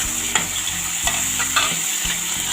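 Finely chopped tomatoes and onion fry in a pan with a steady sizzle, while a spatula scrapes and clacks against the pan a few times at irregular intervals.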